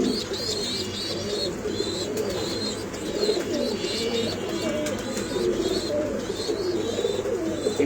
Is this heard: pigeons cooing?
yes